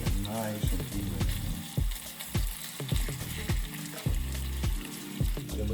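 Beef sizzles steadily as it browns in a pot for stew, a close, continuous frying hiss with faint crackles running beneath talking and other sounds.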